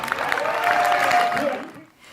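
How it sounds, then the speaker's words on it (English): An audience claps for a group of young participants, a brief burst of applause that fades out after about a second and a half. "But can we please have a round of applause for all of our young people who are taking part?"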